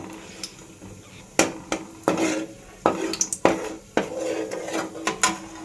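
A spoon clinks and scrapes against a pan while cashews fry, giving sharp metallic taps and knocks at an irregular pace over a low, steady background sizzle.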